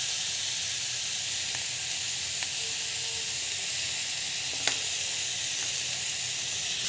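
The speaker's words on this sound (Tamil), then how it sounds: "ரவை வந்து நல்லா வதங்கணும்." Semolina roasting in a pan with asafoetida and rock salt for carrot rava kichidi gives a continuous, even sizzle heard close up, with a few faint clicks of stirring.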